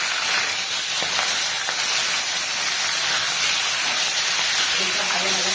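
Oil hissing and sizzling in a pan while eggplant cooks, a steady broadband hiss at constant level with a few faint clinks near the end.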